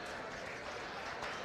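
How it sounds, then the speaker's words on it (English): Applause at a county beef show for a bucket bottle calf shown in the ring, a dense, even burst of crowd clapping lasting just over a second, moderately distant. "give him a nice round of applause"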